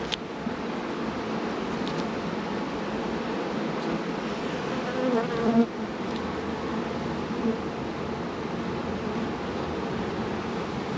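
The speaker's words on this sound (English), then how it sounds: "How much bees there are flying into this box. Like a swarm is here." A swarm of honeybees drones as it pours into a Langstroth nuc box, a dense, continuous close buzzing with a few individual bees passing nearer, steady and moderately loud with no talking.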